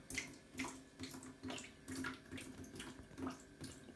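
Water still trickling from a leaking joint in a household plumbing repair, faint irregular splashing and dripping with soft repeated pulses, quiet and close with no voices.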